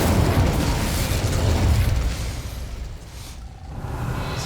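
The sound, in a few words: Incendio fire spell being cast, from a video game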